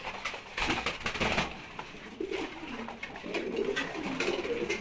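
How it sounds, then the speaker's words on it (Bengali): Pet pigeons coo softly at their morning feed, low murmuring calls over a constant rustling and pecking background, with no voices. "সব কবুতরগুলোই খাবার খাচ্ছে।"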